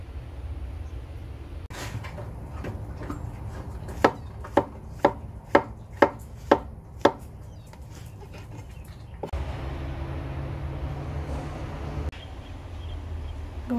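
A knife chops onion on a cutting board in a kitchen: about seven sharp, evenly spaced chops ring out close and loud, with soft handling clatter before and after.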